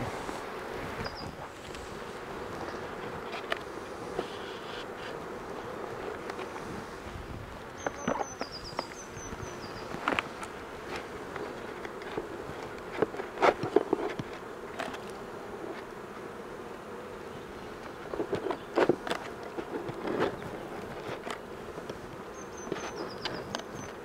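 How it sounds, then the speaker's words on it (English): A dense, steady hum of honeybees buzzing fills the air throughout as a nucleus colony is moved into a hive, with scattered knocks and handling thumps close by. "So I'm just going to knock the rest of these bees off"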